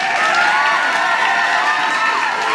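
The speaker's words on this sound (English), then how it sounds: "Again, the audience cheered loudly." A large audience cheers loudly as a read-along CD sound effect: a dense, continuous roar of shouting and whooping voices, close and full, holding steady throughout without a break.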